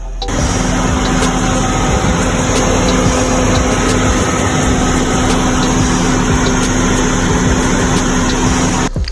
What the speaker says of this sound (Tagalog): At sa part na to, umandar na nga yung radiator fan